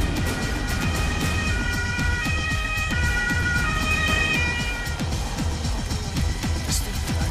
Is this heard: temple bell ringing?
no